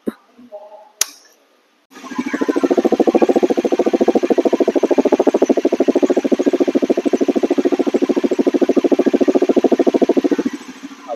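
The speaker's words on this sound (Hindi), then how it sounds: "सो इसका एग्जॉस्ट नोट सुनते हैं हम लोग" After a few faint clicks, a Bajaj Pulsar NS400Z motorcycle engine fires up and runs with a rapid, pulsing exhaust beat for about nine seconds before shutting off.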